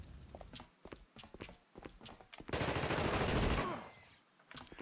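Gunfire in the video game The Thing: scattered sharp shots and footsteps give way to a loud sustained burst of automatic fire, then a few more single shots close up.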